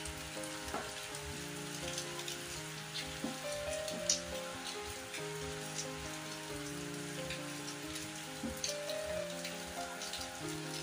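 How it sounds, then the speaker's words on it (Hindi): Heavy rain pours steadily outside a house, a dense, constant hiss of drops pattering on surfaces with occasional louder splashes, unbroken throughout with no talking. "सो कल रात से ही इतनी तेज़ बारिश हो रही है"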